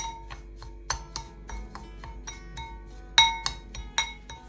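A spoon clinks repeatedly against a cup while instant coffee and sugar are mixed for homemade cappuccino, sharp metallic taps in an irregular rhythm, close and fairly quiet, a few strikes louder than the rest.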